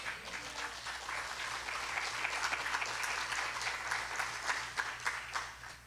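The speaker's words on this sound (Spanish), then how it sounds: "¿Cuánto dan un aplauso a Cristo?" A church congregation applauds during a sermon, a sustained, even patter of many hands clapping at moderate distance, steady throughout and fading slightly at the end.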